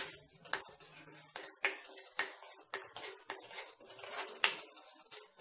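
A spoon scrapes and taps steadily through masala being stirred in an iron kadai for drumstick curry, giving repeated close metallic clinks at a quick, regular pace with no voices.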